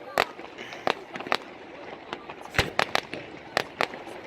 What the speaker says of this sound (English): those are kind of cheap fireworks